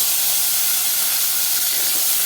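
Chopped tomato goes into hot oil with mustard seeds in a pan, raising a loud, continuous, bright sizzle and hiss that fills the whole moment without any voices.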